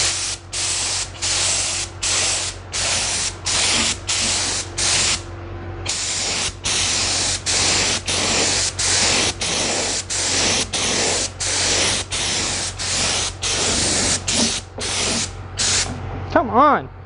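Gelcoat is sprayed onto an RC drag boat twin in about twenty sharp, hissing bursts separated by brief gaps, close and fairly loud, with a short voice near the end.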